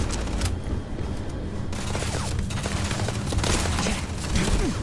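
Gunfire in Starfield, a sustained fusillade of rapid shots layered over a steady low rumble, loud and dense for the whole stretch with bursts that cluster tightly together.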